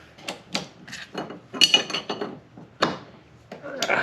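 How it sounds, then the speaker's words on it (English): A 24 mm wrench tightens the strut mount nut on a Pedders XA Extreme adjustable coilover in a 2004 GTO, giving close metallic clinks and ratcheting clatter in irregular bursts. "you need the 5 millimeter Allen wrench, 24 millimeter wrench, and just crank it down."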